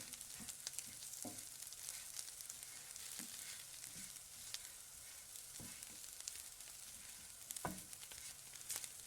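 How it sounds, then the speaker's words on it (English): Garlic, oil and tomatoes sizzling steadily in a hot pan, a soft continuous fry with occasional small stirring knocks, close and quiet, with no talking. "Garlic, oil, tomatoes, all together now. We give them heat, and we give them time."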